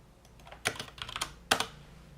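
Keys clatter on a computer keyboard in irregular bursts of quick presses, with two sharper clusters, close and moderately quiet, with no speech.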